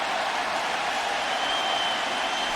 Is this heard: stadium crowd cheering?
yes